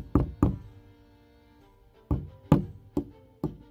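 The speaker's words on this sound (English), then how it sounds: "Hey, let's just add a chisel." A chisel is struck with a hammer while digging for a buried find, two sharp knocks, a pause, then four more spaced blows, each crisp and close with a short woody decay.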